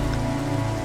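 Steady rain falls in the horror video game Evil Crapper, a dense, continuous patter on surfaces in one brief burst.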